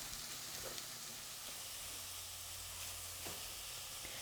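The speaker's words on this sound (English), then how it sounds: "it's going to take a little while for this to saute down and soften up" Fresh thyme sautéing in butter and olive oil as a base for sorrel soup, a faint continuous sizzle and soft hiss from the pan with occasional light stirring clicks, no talking.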